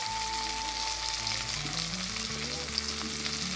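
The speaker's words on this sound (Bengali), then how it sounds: "এবার খুব ভালো করে এই মশলাগুলো কষিয়ে নেব" Spices with ginger-garlic paste, salt and turmeric fry in a pan for a palak paneer, giving a continuous even sizzle under a faint tonal background hum.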